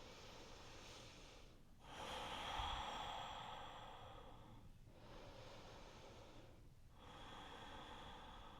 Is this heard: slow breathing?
yes